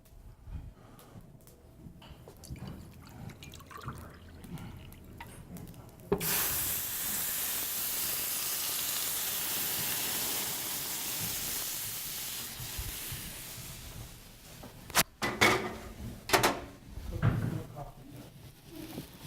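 Water poured into a hot pan while cooking quinoa sends up a loud, steady hiss of steam that holds for several seconds, then fades into clattering kitchen clinks and bumps.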